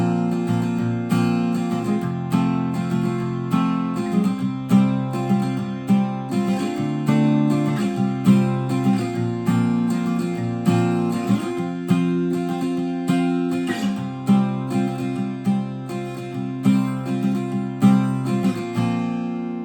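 Acoustic guitar playing the bridge of a song, steady strummed chords with rhythmic picked accents, close and full, continuing alone without singing or talk.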